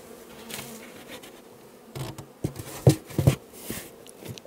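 Honeybees buzz steadily around an opened beehive during a hive change, a dense close hum with a few sharp knocks and taps of wooden hive parts being handled.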